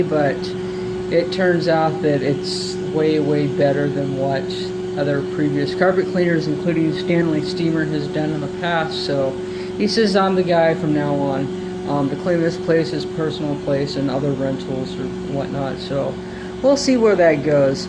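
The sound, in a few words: truck-mounted carpet cleaning unit motor running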